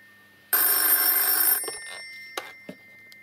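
A telephone bell rings loudly for about one second, then stops, followed by a few faint knocks and clicks in a quiet room.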